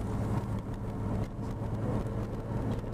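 A 1998 Citroen Xantia V6 accelerating on the road, steady loud engine drone with low rumble heard from inside the cabin, continuous for a few seconds without talk.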